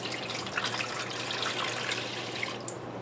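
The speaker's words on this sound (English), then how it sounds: "just put them in a roasting pan and put some water in the bottom." Water poured from a tap into a roasting pan holding meat bones for broth: a soft, steady trickling and splashing stream that runs continuously and fairly quietly, with no voices over it.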